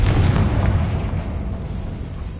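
A Confringo blasting spell explodes in Hogwarts Legacy, a loud, continuous booming rumble that starts strongly and fades only slightly as it rolls on.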